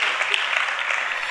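An audience applauding at a religious retreat gathering, a brief burst of dense, even clapping that fills the whole moment, fairly loud and close.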